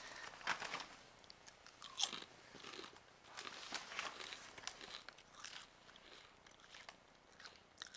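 Crispy flattened snack made with organic extra virgin olive oil and sea salt being bitten and chewed up close, loud brittle crunches and crackles in uneven bursts with no talking.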